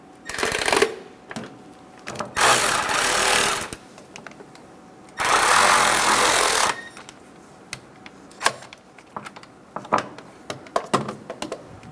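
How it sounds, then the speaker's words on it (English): A ratchet or power tool tightens the timing belt cover bolts on a 1994-1997 Honda Accord 2.2L four-cylinder engine, in two loud sustained bursts with scattered clicks and clanks of handling between them, close up. "Get the bolt started. One on the bottom left and one in the middle right. Snug the bolts down."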